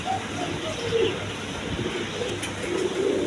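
A pigeon suffering from paralysis coos repeatedly in low, soft throaty phrases over a constant background hiss.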